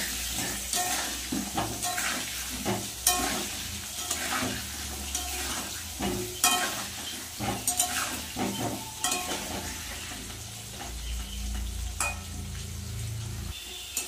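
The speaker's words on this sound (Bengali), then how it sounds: "নুন আর হলুদ দিয়ে আলুটা লাল লাল করে একটু ভেজে নেব" Potatoes fry in oil with turmeric and salt, a steady sizzle carrying through with repeated scraping stirs and clinks of a spatula, close and fairly loud, with a deeper rumble of tap water near the end.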